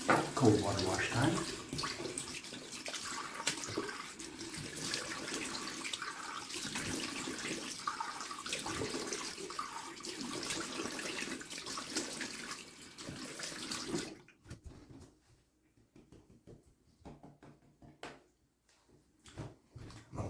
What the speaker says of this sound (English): Cold water wash time.